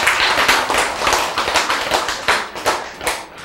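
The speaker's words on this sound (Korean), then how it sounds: "뭐 해요, 박수 좀 치지." An audience claps in loose, uneven bursts, with individual hand claps audible within a fairly loud, close patter that rises and falls.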